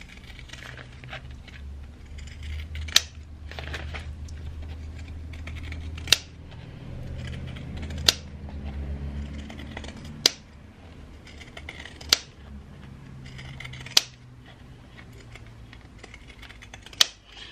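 Pinking shears trimming fabric around curved seam edges give soft snipping and rustling, punctuated every couple of seconds by sharp, clicky blade closures, close and fairly quiet.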